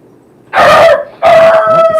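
A dog lets out two loud, close howling barks in quick succession, each a sustained wavering cry separated by a short pause.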